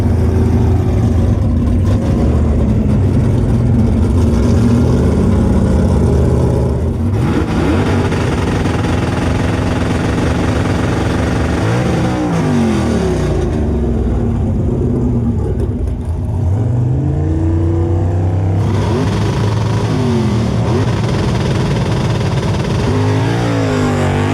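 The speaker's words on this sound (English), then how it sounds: "Alright, so this is the first pass for our car, guys." A GM manual-transmission drag car with a TSP-powered LS V8 makes a pass at LS Fest 2018, its engine roaring loud and continuous, pitch climbing and dropping through several gear shifts as it pulls away.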